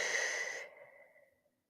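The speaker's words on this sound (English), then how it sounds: "Take a couple breaths." A single slow, deep exhale during a morning yoga session, soft and close, trailing off into quiet.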